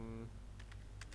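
Several quick keystrokes tap on a computer keyboard as a short command is typed, crisp clicks in a loose cluster after a brief hum fades out, close and fairly faint.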